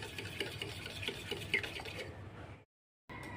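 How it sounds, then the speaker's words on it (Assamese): A cup of milk being whisked into beaten eggs for egg pudding, a steady soft scraping and swishing of utensil against bowl, close and continuous, briefly cut to silence before resuming. "গাখীৰটো ভালদৰে মিক্স কৰি দিম"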